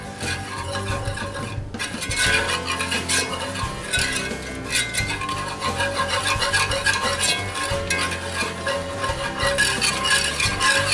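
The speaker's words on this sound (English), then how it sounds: "we're going to stir in our flour, and we're going to keep whisking this until it's properly incorporated" A whisk scrapes and clinks steadily in a cast iron pan as flour is stirred into bacon grease, a continuous busy rhythm of metal-on-iron strokes, close and fairly loud.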